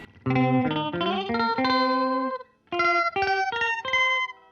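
Guitar played through a Behringer Vintage Phaser VP1 pedal rings out a run of sustained notes and chords with a swirling effect, broken by a short pause midway before more struck chords follow.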